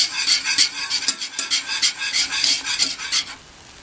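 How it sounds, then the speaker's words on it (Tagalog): A utensil stirs spaghetti carbonara sauce in a pan over low heat, making rhythmic scraping and swishing strokes with a faint sizzle underneath, close and steady before stopping near the end. "So, habang niluluto natin, hahaluin natin."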